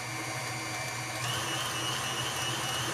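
An electric mixer whips cream into butter with a steady, even whir. The motor drones on without a break and its pitch shifts slightly partway through.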